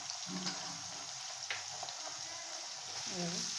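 Ginger-garlic paste fries in hot oil for a khandeshi-style khichdi tadka, a continuous close sizzle running throughout, with faint voice-like murmurs briefly rising over it.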